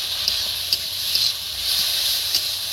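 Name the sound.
mashed pointed gourd sizzling as added to hot pan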